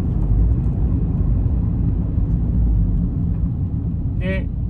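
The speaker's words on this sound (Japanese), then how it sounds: "で、マフラー音は、 まあ、正直言って全然うるさくないです。" A black Toyota 86 2.0 GT Limited with an aftermarket muffler and TRD coilovers accelerates. From inside the cabin, its engine makes a steady, moderately loud low drone with a faint high chirp near the end.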